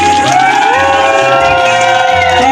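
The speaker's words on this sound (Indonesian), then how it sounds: "penonton mohon untuk tepuk tangan dan sambil teriak" Audience at a children's lato-lato clacker contest held on water, loud and continuous crowd cheering and shouting with children's voices and whoops, set against steady background music.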